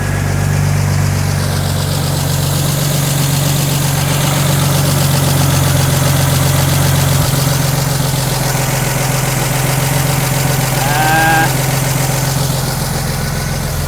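A 1946 Chevy truck engine idles just after starting in a garage, a loud, steady low rumble with even pulsing that continues without a break, no voices over it.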